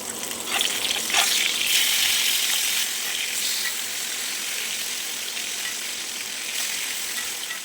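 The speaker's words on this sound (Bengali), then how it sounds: "আমি কিছু মাছ এখানে লবণ হলুদ ভেজে নিই" Pieces of fish coated with salt and turmeric fry in hot oil, a loud steady sizzle with crackling pops that persists close up throughout.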